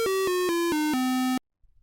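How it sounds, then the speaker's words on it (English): A slot machine in the ZZT video game plays its victory jingle: a rapid run of five bright, buzzy square-wave notes stepping downward, the last held, then cut off abruptly into silence. "4 gems tumble out of the slot at the bottom of the machine while a victory jingle plays"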